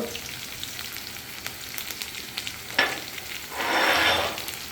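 Steady frying sizzle of chilies and onions in oil, with scattered crackles and a louder hissing swell near the end as they're stirred.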